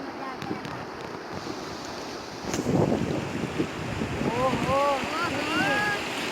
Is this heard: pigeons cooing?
no